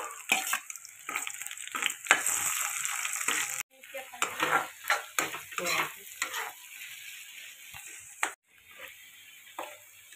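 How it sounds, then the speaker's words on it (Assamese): Onion and two bay leaves fry in hot oil for a duck curry, giving a loud, close sizzle with bursts of stirring and scraping that stop briefly twice, with no talk. "তেলখিনি গৰম হোৱাৰ পিছত এতিয়া পিঁয়াজ দিছোঁ। তাৰপিছত তেজপাত দি দিছোঁ দুটা।"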